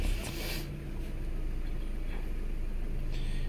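Suzuki Swift engine with a catalyst efficiency fault running steadily as the throttle is let off, a low continuous drone that holds even and close throughout, with no talking.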